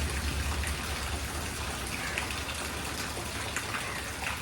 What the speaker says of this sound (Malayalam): എന്താന്നറിയോ, മഴ പെയ്തത്